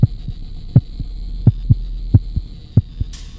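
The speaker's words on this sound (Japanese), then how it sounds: "おいおい、心音が上がってるぞ" Rising heartbeat in the horror game The Cat Lady: loud paired thumps repeating at a quickening pace over a low steady hum, ending in a short burst of hiss.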